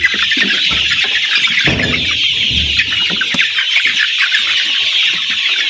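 Six-week-old layer chicks chirp and squeal around empty feeders, a dense, continuous high-pitched chatter, loud and close, with occasional scuffles and wing flutters and no talking.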